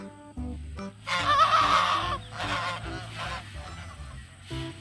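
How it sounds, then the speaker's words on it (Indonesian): A goose honks several times in a row, clear and close, with a few lower calls and brief gaps between the bursts. "coba lihat, ini ada hewan yang namanya bebek angsa"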